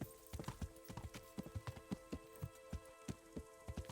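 Horse hooves clop steadily in Kingdom Come: Deliverance, a quick, even rhythm of close, fairly faint hoofbeats over a low background hum, with no talk.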